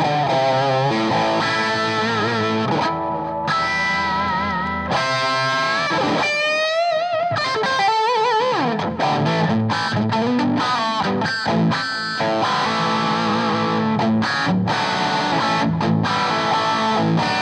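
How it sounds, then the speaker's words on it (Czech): Electric guitar with full distortion on a humbucker pickup plays loud, sustained, saturated chords and bending lead notes with brief pauses, up close and alone. "Ten zvuk, který tam mám na to plný zkreslení, na ten humbucker."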